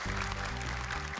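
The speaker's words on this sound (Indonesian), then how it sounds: "Boleh tepuk tangan, terima kasih kehadirannya." An audience applauding at an Indonesian Quran memorization competition, a continuous wash of clapping from many hands, loud and dense, with a low tonal hum underneath.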